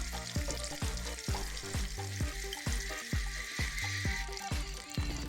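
Ghee heats in a pan with a steady, fairly quiet sizzle and crackle. There is no talking over it.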